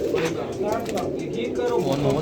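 Many pigeons murmur and coo steadily at a huge loft setup in Rawalpindi holding thousands of birds, a dense, close chorus under a person speaking.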